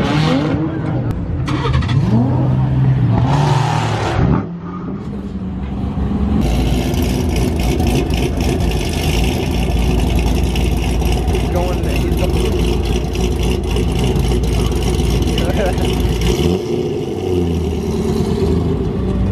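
A loud Corvette engine roars and revs continuously during a burnout at a car meet, with a brief lull before the roar builds again and holds; voices are faintly mixed in.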